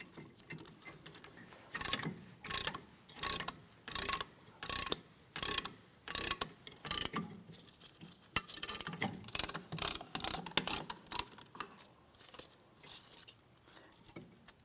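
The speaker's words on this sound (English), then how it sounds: "We're just going to carefully start pressing in on this piston." Rear brake caliper piston being pressed in on a Ford Edge, heard as a steady series of sharp ratcheting clicks in a regular rhythm, close and fairly loud, later turning into quicker, irregular clicking, with no talk.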